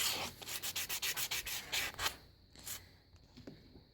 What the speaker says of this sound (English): And then I like to polish it. This is a light gray side is a polishing